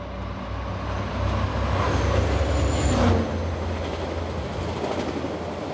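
The SNCF RTG 01 gas turbine trainset prototype gives a steady, heavy rolling rumble that swells to a peak at about three seconds and then eases off slightly, with no voices over it.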